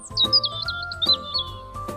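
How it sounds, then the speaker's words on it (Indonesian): Birds chirp in quick, high tweets, repeating several times over a quiet rhythmic backdrop. "Selain itu ada suara burung."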